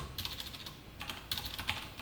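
Quick light clicks of typing on a computer keyboard during SQL work in MariaDB, two short bursts of keystrokes, close and fairly quiet with no speech.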